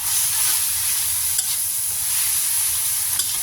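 Instant noodles stir-fried with soy sauce in a hot pan, giving a steady close sizzle with soft scraping stir strokes throughout and no talk.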